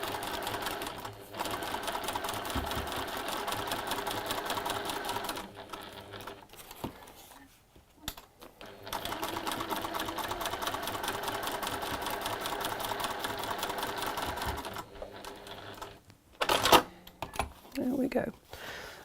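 A sewing machine runs steady tacking stitches in long continuous bursts that hold fabric layers together, with short pauses between runs and a voice talking over part of it.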